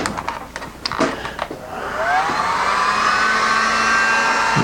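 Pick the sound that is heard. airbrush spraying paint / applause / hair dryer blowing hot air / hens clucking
hair dryer blowing hot air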